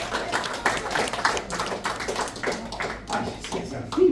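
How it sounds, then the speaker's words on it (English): An audience at a magic and mind-reading show in Sevierville, Tennessee claps in a dense, uneven patter that swells and dips for about four seconds, with some voices mixed in. "give them both a big round of applause!"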